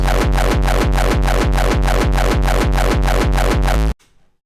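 A synthesized Frenchcore kick tail layer built in Serum, pounding in a steady fast loop of about eleven loud, distorted hits with tonal tails, then cutting off abruptly to a faint residue.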